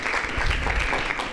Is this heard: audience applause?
yes